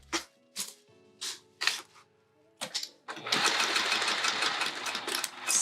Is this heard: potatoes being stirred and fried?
no